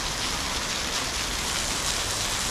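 Rain falls in a steady, dense hiss, even and unbroken throughout, with no voices or other sounds over it.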